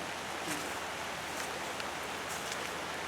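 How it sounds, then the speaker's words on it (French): Steady rain falls over a vegetable garden where squash are grown in December, a soft continuous hiss of drops on leaves and surfaces with no talk over it. "Alors on est content qu'il pleut, Bernard?"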